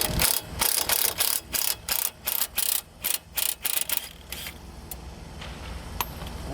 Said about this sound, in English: I'm going to use my impact gun to just back this guy right out.